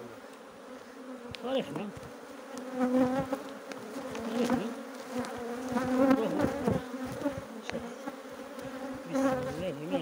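Honeybees buzz steadily and close up at an opened hive, a dense drone rising and falling in waves while someone speaks intermittently over it.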